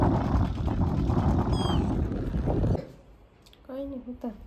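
Strong wind roars and buffets the microphone over a farm field during sowing for a few seconds, then drops away, leaving quieter background with faint distant sounds.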